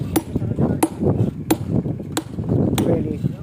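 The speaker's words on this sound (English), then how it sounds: "He's chiseling out with a chisel." At a stone temple under repair, a worker strikes a chisel into stone with a hammer, giving about five sharp, evenly spaced metallic taps close by, while someone talks over them.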